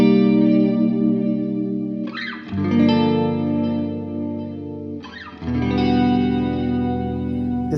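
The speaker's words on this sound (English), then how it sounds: "Then I'm turning on my stereo chorus." Electric guitar fitted with gold foil pickups, played through a stereo chorus effect: sustained chords shimmer and swirl with a wide, wavering modulation, with two new strums a few seconds apart, loud and alone with no talking.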